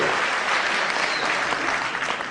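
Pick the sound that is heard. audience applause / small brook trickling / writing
audience applause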